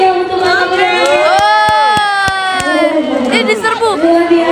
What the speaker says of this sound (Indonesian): boleh dong beri tepuk tangan yang meriah untuk Bapak penyelamnya